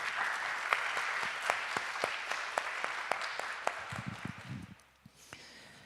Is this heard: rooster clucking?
no